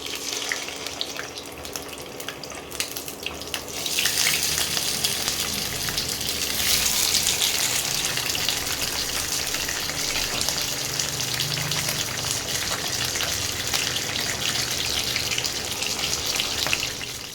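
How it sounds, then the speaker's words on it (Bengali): Pomfret fish coated in salt and turmeric frying in hot oil, a dense steady hiss that swells up after a quieter start and holds loudly and evenly throughout, close and without speech. "তেলটা গরম হয়ে গেছে, এবার আমি মাছগুলো ভেজে নেব।"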